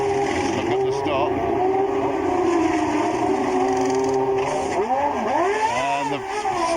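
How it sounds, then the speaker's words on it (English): Formula One race cars whine loudly in the pit lane, a sustained high engine drone with rising and falling pitch sweeps as cars pass, while a commentator talks over it. "And here comes Senna into the pits"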